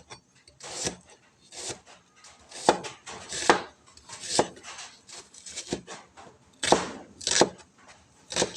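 Knife chopping ginger and onion on a board for a Filipino fish stew, a quick irregular run of sharp close taps in short bursts, with no talk over them.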